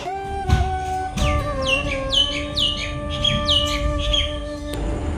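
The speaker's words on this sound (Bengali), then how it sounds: "আর কি সুন্দর একটা পাখি ডাকছে শুনলে বাইরে আওয়াজ হচ্ছে" Bird outside repeatedly calling in a series of sharp, descending chirps, fairly close and clear over a faint steady background hum, with no talking.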